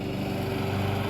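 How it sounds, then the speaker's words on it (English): A lawn mower runs outside with a steady, unbroken engine drone at moderate loudness. No one speaks over it. "She's out there mowing using the lawnmower."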